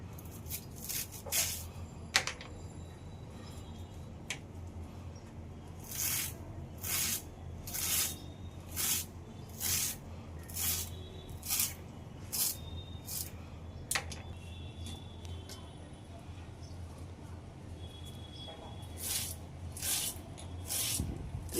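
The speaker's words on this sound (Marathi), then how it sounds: "आपण कोथिंबीर बारीक चिरून घेत आहोत" A knife chops freshly washed coriander finely on a board in a series of quiet, crisp, evenly spaced strokes, with short pauses between runs.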